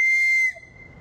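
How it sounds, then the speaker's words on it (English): A theatre sound effect of a train whistle: one clear, steady high-pitched blast lasting about half a second, then cutting off to near silence. "And the train whistle, which sounds like this."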